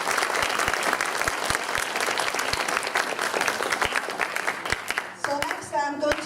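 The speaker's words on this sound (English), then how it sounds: "So another round of applause for Master Zhu Chushan." Audience at a Peking opera performance applauding warmly, dense steady clapping for several seconds that fades toward the end as a voice begins to speak.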